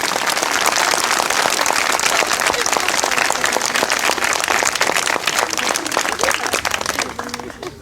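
A crowd at a rally over the UP TGT and PGT teacher exams claps loudly and continuously for several seconds, with a dense rain of handclaps that thins slightly toward the end.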